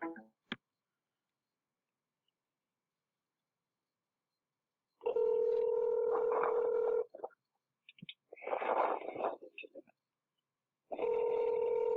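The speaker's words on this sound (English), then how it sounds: "Ring, ring." A played back phone call recording carries a telephone ringing tone that sounds in two long bursts separated by a pause, with a brief voice speaking between them and a short click at the start.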